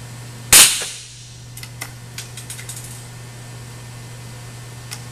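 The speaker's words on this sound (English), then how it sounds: "I'm going to run 5 rounds through with that same batch we just shot, with no tuner at all." A single sharp rifle shot fired with no muzzle tuner fitted during a suppressor test, loud and close with a quick fading tail, followed by faint clicks and handling sounds over a steady hum.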